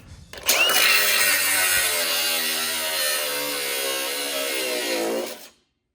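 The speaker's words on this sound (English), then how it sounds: "I'm just gonna go down and grind the head of these bolts off now." Power tool grinding the heads off bolts on a trailer being rebuilt into a car hauler, a loud, steady, high whine that starts abruptly, holds for about five seconds and then cuts off.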